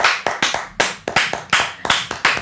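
A small group clapping hands in a round of applause, with sharp, close claps in a fairly regular rhythm, about two claps per half second, clearly heard with no talking over it.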